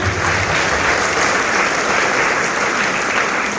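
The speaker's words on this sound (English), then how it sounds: "Shall we give our teachers a big round of applause?" A school orientation audience gives the teachers a big round of applause, dense, loud, continuous clapping from many hands filling the hall without a break.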